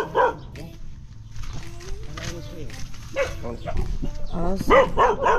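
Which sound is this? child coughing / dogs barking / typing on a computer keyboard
dogs barking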